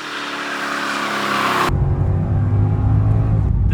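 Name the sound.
Mercedes-Benz E55 AMG engine revving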